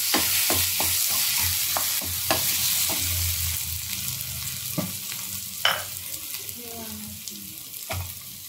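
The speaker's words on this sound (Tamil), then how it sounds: "இஞ்சி பூண்டு போட்டு 2 நிமிஷம் அந்த பச்சை வாசனை போகிற வரைக்கும் வதக்கிட்டு" Onion sautéing in a pan with ginger garlic paste, a steady close sizzle broken by repeated clicks and scrapes of a spoon stirring, with no voices.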